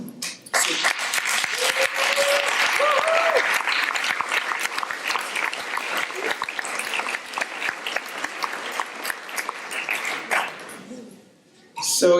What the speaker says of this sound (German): So yeah, you're clapping.